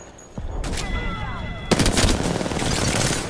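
Shotgun blasts in an Apex Legends match crack out in a few sharp bursts amid other gunfire and game effects, loud and close, with a faint voice nearby.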